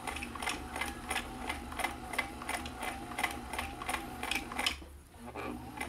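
A vintage Kenmore 158.1040 sewing machine stitching a zigzag, a rapid regular mechanical ticking and whirring at close range that pauses briefly near the end before starting up again.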